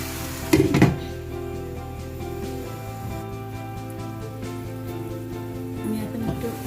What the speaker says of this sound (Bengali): আমি এখন একটু নাড়া দিয়ে দিচ্ছি।